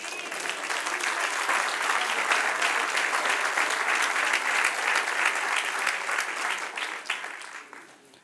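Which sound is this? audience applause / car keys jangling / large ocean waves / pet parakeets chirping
audience applause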